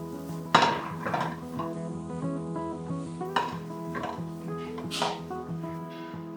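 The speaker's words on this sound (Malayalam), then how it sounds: "ഇത് നന്നായിട്ട് വഴറ്റി കൊടുക്കാം." Spiced masala of chili powder, coriander, garam masala and pepper being sautéed in a pan for a Kerala village-style potato dish, with a spoon clinking and scraping against the pan in several short bursts over steady background music.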